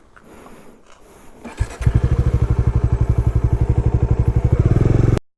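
Motorcycle engine, a Bajaj Dominar 400 or KTM 390 Adventure, starting with a thud and settling into a loud, steady rapid thumping idle close by, cutting off abruptly at the end.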